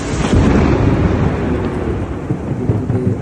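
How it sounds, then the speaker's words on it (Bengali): A loud, close rumble of thunder rolls through a heavy rainstorm in Saudi Arabia, its broad roar holding steady for a few seconds with rain hissing beneath and no voices. "বিদ্যুৎ চমকাচ্ছে যেগুলো একটা দুর্ঘটনা করতে পারে"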